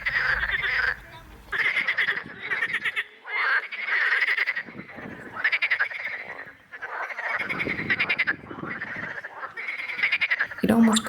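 Frogs croaking loudly in a spring pond in Montpellier, a dense chorus of rasping calls in bursts with short gaps, close and continuous.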